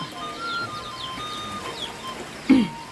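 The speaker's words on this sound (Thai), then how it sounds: "ฝนก็จะตกหนักแบบนี้นะ" Heavy rain pouring over a flooded village home in Thailand, a steady close hiss with faint bird chirps and one brief thump near the end.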